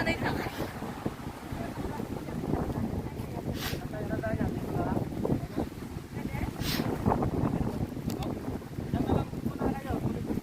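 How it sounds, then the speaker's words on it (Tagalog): Strong wind buffets the microphone at the seashore in Dingalan, Aurora Province, Philippines, in steady low rumbling gusts, with faint surf and voices talking underneath. "Napakalakas sa hagin dito, sa tabing dagat."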